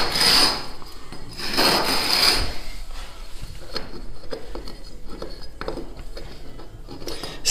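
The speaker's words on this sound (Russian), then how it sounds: "Пускай будет чуть больше, и об пол мы его дочухаем." A decorative gypsum tile is rubbed down against the floor to trim its edge. Two strong, harsh scraping strokes come close up at the start, followed by lighter, irregular scrapes and taps.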